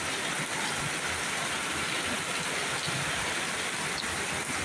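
Heavy rain pours down steadily in a dark, windy morning, a dense, loud, unbroken hiss that fills the whole stretch with no voices over it.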